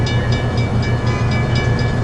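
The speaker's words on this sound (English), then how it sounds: "It's northbound Metrolink, number 665." Northbound Metrolink train number 665 passes through San Juan Capistrano in a quiet zone, giving a loud, close, continuous rumble with a steady rhythmic pulsing of wheels and no horn.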